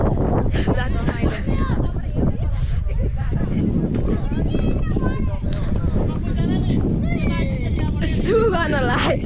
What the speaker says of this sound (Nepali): ओहो हावा